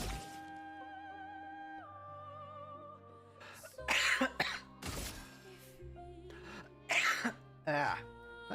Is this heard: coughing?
yes